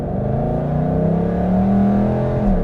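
A 750 hp supercharged Roush Mustang GT with automatic transmission accelerates, its engine note rising in a steady loud drone with supercharger whine, close and continuous without talk.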